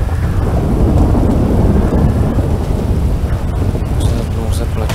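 A loud, continuous thunderstorm rumbles with heavy rain and rolling thunder in the video game GTA V, dense and close throughout, with faint voices underneath.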